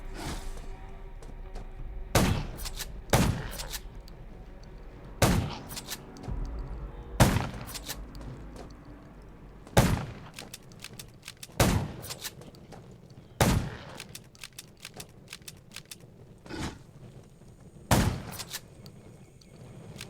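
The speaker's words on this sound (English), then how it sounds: "Gunshots will attract more zombies." Gunfire while fighting zombies in the survival video game Undawn: about ten sharp, loud single shots at irregular intervals of one to three seconds, each cracking out over a low, steady background rumble.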